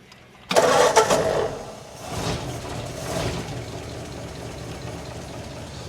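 A 1947 vehicle engine with a freshly rebuilt transmission cranks and fires with a loud, abrupt start, then settles into a steady, rumbling idle close by.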